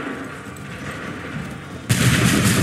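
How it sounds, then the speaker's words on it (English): Musket volley in Assassin's Creed III erupting as one sudden loud, dense burst of gunfire after a tense stretch of battlefield ambience, continuing as a sustained roar. "Open fire."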